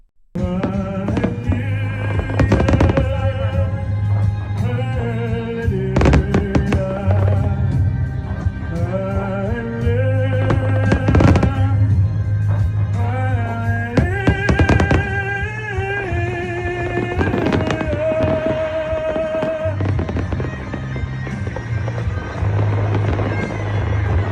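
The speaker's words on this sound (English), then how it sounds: "Golden fireworks for the start of the golden era." A golden fireworks display fills the air with repeated booms and crackles over a steady bed of loud music, the bursts recurring irregularly throughout.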